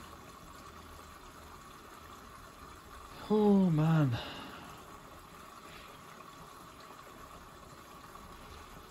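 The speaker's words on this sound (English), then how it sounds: "It's taking on water for a hand wash." A Dyson CR01 Contrarotator washing machine takes on water for a hand wash, with a brief gushing rush, about a second long, over a steady mechanical hum while someone speaks briefly.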